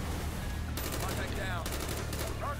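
Dense bursts of gunfire in Call of Duty: Black Ops, rapid automatic shots crackling over steady game background and music, with several loud volleys in quick succession.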